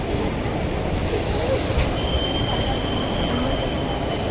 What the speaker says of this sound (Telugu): వర్కాల శివగిరి నుండి మన ట్రైన్ అయితే లాస్ట్ డెస్టినేషన్ త్రివేంద్రం సెంట్రల్కి బయలుదేరింది